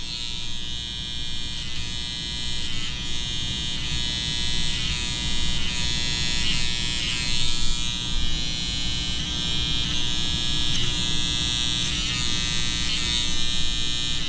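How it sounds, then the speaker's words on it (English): An electric hair trimmer cuts a fade during a haircut. It gives a steady, close, high-pitched buzz with small dips and surges as the blades pass through the hair, running without pause and with no talk. "Grab my trimmer, and we're gonna work our way out."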